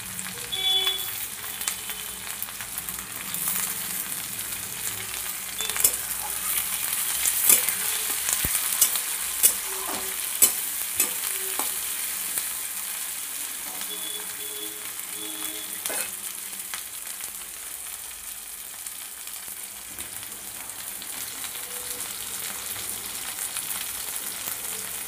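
Capsicum frying in a pan for a jackfruit curry, with a steady sizzle and intermittent stirring scrapes, close and fairly quiet throughout, with no talking.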